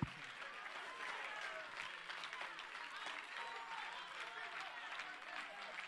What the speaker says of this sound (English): So I'll clap as loud as I can.